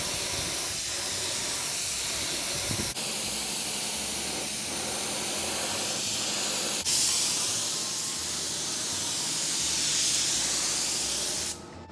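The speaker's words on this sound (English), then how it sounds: "we're gonna start spraying paint" A spray gun hisses steadily as paint is sprayed onto a C5 Corvette, a continuous loud airy spray with brief pauses and no talking.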